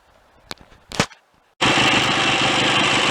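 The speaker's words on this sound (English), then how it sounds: "I'm running the engine of this BSA A7 here." Two sharp clanks in near silence are followed by a classic BSA A7 motorcycle engine firing into a loud, steady, close-up idle that runs to the end.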